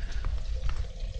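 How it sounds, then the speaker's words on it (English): Coolant draining out of a Cummins diesel drag race truck into a small pail in a garage, a steady splashing trickle with uneven gurgles and bursts, close by. "we are draining the coolant out of the race truck"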